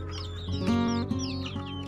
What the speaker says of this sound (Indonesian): ribut memanggil anaknya, khususnya babon yang agak kehitaman